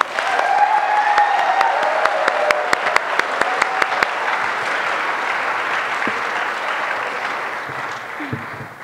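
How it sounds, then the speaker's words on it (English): An audience at the 2011 Queer Youth Leadership Awards gives another round of applause, with dense clapping and a few sharp accents early on that gradually thin and fade toward the end. "Let's just give him another round of applause."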